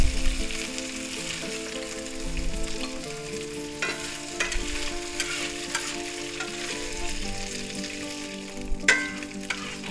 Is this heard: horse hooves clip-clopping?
no